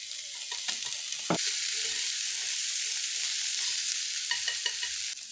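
Green onion, garlic and ginger sizzle in a pot for a one-pot Japanese dish, a steady bright frying hiss with a few soft stirring knocks and scrapes, close and loud.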